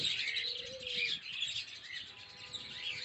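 Cockatiels chirp continuously in a busy, high-pitched chatter, a flock heard at moderate distance in Dhaka's Katabon market, with a faint low whistle-like tone early on.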